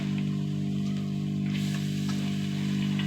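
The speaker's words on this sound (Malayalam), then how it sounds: "പൊടികൾ മൂത്ത് വന്നു ഇനി നമ്മുടെ ചീരിട്ട് കൊടുക്കട്ടെ" Fresh spinach dropped into a hot pan of roasted spice powders, including coriander powder, gives a steady, close sizzle with a constant hum underneath.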